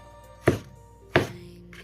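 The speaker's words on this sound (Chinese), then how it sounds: "把西红柿蒂给它去掉不要，再改刀切片" A knife cutting through a peeled, halved tomato into slices on a chopping board, two distinct close chops about two-thirds of a second apart, each a sharp thud with a short tail, no voices.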